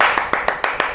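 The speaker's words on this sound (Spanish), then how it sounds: "Déjenme aplaudir." Bare hands clap five or six times at an even, brisk pace, close and fairly loud, with no voices over them.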